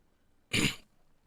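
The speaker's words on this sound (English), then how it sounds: "I should have muted myself again to clear my throat" A single short throat-clear lasting about a third of a second, loud and close against a quiet room, then silence again.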